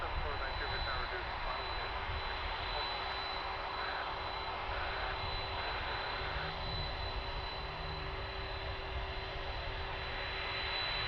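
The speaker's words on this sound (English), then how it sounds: "the Canada Airbus rolling in." An Air Canada Airbus airliner taxis at Vancouver airport, its engines a steady, broad roar with a faint whine that holds level throughout. A voice murmurs faintly underneath.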